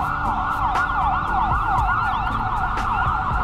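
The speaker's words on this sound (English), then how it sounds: "Some sirens going on over there." A wailing emergency siren rises and falls steadily, somewhat distant, heard from a woodland trail, with faint traffic noise and occasional clicks underneath.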